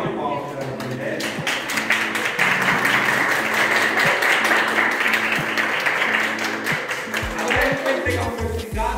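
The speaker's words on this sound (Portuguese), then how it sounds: "vamos dar uma salva de palmas para o projeto" Applause from a drawing and lettering workshop audience at Fabrica de Sonhos, dense steady clapping from many hands carrying on for the whole stretch, with music playing alongside it.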